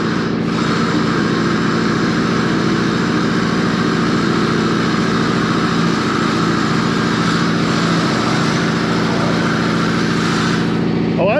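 A crane engine runs steadily while hoisting a heavy tractor rear axle off a dump truck during major axle repair, a loud, constant mechanical drone that continues without a break for the whole stretch.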